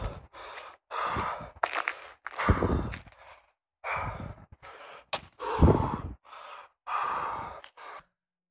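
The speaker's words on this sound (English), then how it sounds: "I was really breathing heavily." Heavy, ragged breathing recorded on a phone during a street protest, a run of loud sighing inhales and exhales with gasps and short pauses between them, close to the microphone and with no talk.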